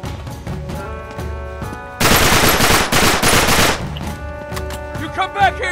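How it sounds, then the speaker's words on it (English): Rapid automatic gunfire from the video game Uncharted 3: Drake's Deception Remastered, loud sustained bursts in the middle of the clip, with softer game sounds before and after. "Waste that ammo."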